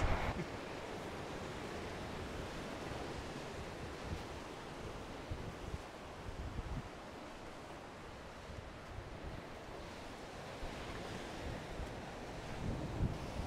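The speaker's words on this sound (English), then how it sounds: "That's a nice little swimming beach. Yeah. Still get a little bit pumped by the waves, but nice and flat." Gentle waves lapping at a flat swimming beach in Australia, a soft continuous wash mixed with wind noise on the microphone, fairly faint and steady with no voices.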